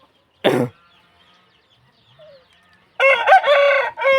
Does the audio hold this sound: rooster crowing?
yes